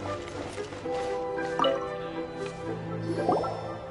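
Water gathered in Genshin Impact gives a run of soft game drips and liquid squishes, a couple of brighter splashy plops standing out over a steady layer of background music.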